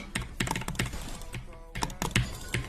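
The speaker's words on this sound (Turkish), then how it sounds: "Duyuyor musun oğlum bu klavyenin sesi?" Fast, clattering keystrokes on a computer keyboard, close and steady, with a brief pause partway through before the typing resumes.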